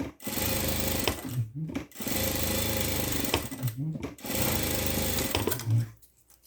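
A sewing machine stitching all the way around a small 7 by 4.5 fabric scrap, loud steady whirring runs in three bursts separated by short pauses, close up with no talking.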